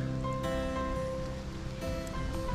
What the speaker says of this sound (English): even though the rain's pretty crappy.